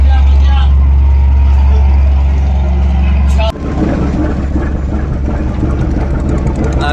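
A passenger launch pulls away from Sadarghat in Dhaka, bound for Barisal. Its engine drones loud and steady with a deep rumble, and after a sudden break midway the noise returns rougher, with busy clatter and crowd murmur.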